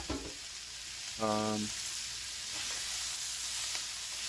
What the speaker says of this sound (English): Just get it a good stir and we'll cook for a little bit.